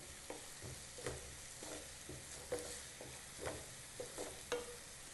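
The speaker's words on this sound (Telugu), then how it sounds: "బ్రౌన్ కలర్ వచ్చేంత వరకు వీటిని వేయించుకోవాలి" Onions fry in a pan with salt, crackling in a soft, steady sizzle. A spoon scrapes and taps through them at a loose, regular rhythm, close by with no talk.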